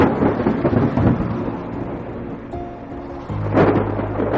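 Heavy rain pours with deep rolling thunder, loud and close, as a storm sound effect for a children's story about baby birds in a nest; the rumble swells again near the end.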